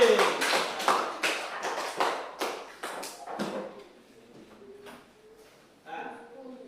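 Classmates applaud a student in a classroom, a burst of scattered near claps that thins out after a few seconds, with a voice speaking toward the end.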